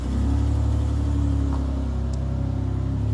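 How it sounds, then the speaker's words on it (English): A loud car passes close by, a steady engine rumble and whir holding strong for about three seconds with no talk over it. "That car is so loud."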